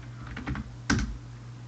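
Keys clatter on a new computer keyboard during game development work, a short run of quick typing taps followed by one louder keystroke cluster, close and fairly quiet over a steady low hum.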